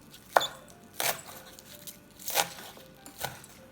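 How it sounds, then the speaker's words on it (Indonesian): A sharp knife finely slicing two stalks of spring onion on a board, a handful of crisp separate cuts spaced about a second apart, close and fairly quiet, with no talking. "diiris halus seperti ini."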